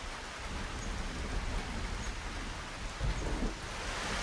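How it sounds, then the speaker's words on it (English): Steady heavy rainstorm in a jungle in Uthai Thani, Thailand, during the rainy season, a dense continuous hiss of rain falling on foliage and surfaces, loud and even throughout with a low rumble underneath and no voices. "There aren't many things on this planet that make me more content than simply sitting in a rainstorm"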